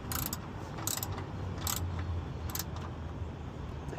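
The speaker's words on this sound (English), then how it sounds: "Next I'll grab our wrench. Let's start tightening this up." Ratcheting wrench tightening the oil drain plug on a Ford Mustang S197 during an oil change, a few quick clicking bursts over steady low background hum, close up.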